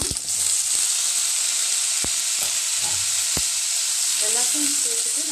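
Chopped onion and tomato sauté in a pan for an uttapam chutney, giving a loud, steady sizzle with a few sharp clacks of a spoon against the pan and soft stirring noises.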